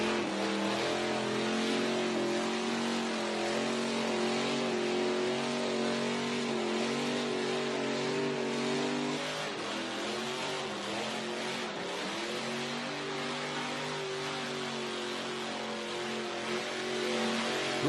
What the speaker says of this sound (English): More burnout action coming our way, ladies and gentlemen.